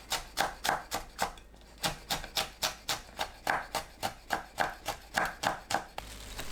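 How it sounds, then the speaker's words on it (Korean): A knife chops red chili peppers into small pieces on a cutting board for a napa cabbage pancake, giving crisp, evenly spaced taps in a quick steady rhythm with a brief pause partway through, close and clear. "홍고추를 작게 썰어줍니다."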